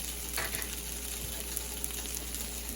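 Italian sausages sizzle steadily in a hot pan, a close, soft frying crackle with faint scattered pops and no talking.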